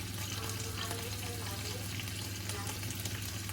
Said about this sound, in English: this will just kind of simmer